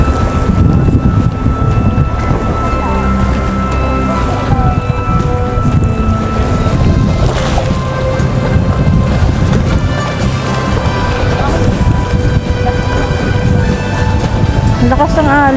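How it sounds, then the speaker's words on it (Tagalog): Strong waves on a lake at a Batangas boulevard, driven by heavy wind that buffets the microphone in a constant roar, with water churning underneath and voices talking over it. "Ang lakas ng alon."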